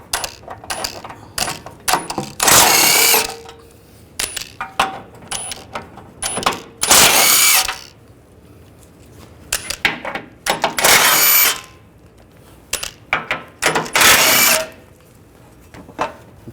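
A ratchet with a 16mm socket backs out bolts on a Jeep Liberty 3.7L V6, giving rapid clicking runs interrupted by several longer, louder ratcheting bursts, close and prominent.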